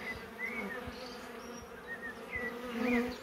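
Honeybees hum steadily at an opened beehive, a close, continuous buzzing drone with individual bees whining past, and no speech.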